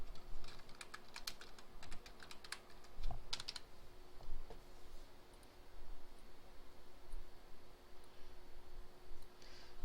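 Keys clatter on a computer keyboard in quick irregular bursts, close and fairly quiet, with pauses between runs of typing over a faint steady hum.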